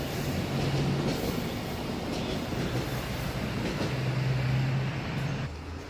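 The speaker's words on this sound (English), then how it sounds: "There goes the train." A train rolls past on a nature walk in Kanagawa, a loud, continuous rumble with rhythmic wheel clatter and faint squeals, fading slightly at the end.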